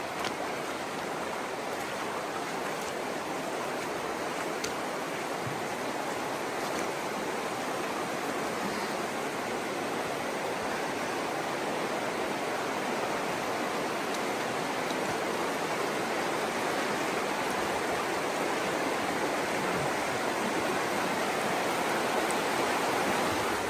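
Water from a stream rushing and splashing over rocks in the Patuna Chasm gorge near Martinborough, a steady broadband roar that holds at a constant level throughout, close by and unbroken.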